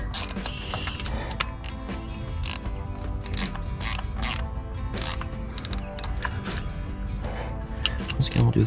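A ratcheting wrench snugging starter bolts on a John Deere 3020 tractor, with repeated quick clicking bursts and metallic handling, close up, amid intermittent speech.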